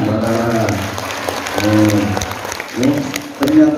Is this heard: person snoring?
no